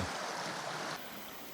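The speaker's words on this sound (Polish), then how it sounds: "strumień z prawej, strumień z lewej." A mountain stream in the Tatra mountains rushes in a steady, broadband wash of flowing water nearby, heard alone and easing slightly partway through.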